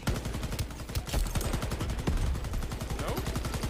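Rapid automatic gunfire from the Shatterline shooter game, a steady stream of closely spaced shots lasting throughout, loud and dense, with a few heavier bursts near the start.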